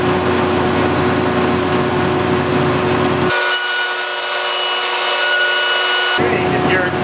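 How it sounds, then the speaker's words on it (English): A wood planer running in a shop as a board is fed through for a trestle table, a loud steady mechanical roar with a harsher cutting rasp in the middle. "Make sure it's scraped really well, and I want to check this before you put it through the planer"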